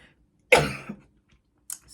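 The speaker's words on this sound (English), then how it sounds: "I don't know why I'm coughing." A woman gives one sharp close cough followed by a smaller throat sound, then a faint brief noise after a short pause, in an otherwise quiet room.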